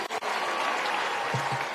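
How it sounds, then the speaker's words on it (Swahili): A crowd at a Turkana cultural event in Kenya applauds President Ruto, producing dense, sustained clapping that stays loud and even for nearly two seconds after a couple of sharp opening claps. "Hebu pigeni rais makofi."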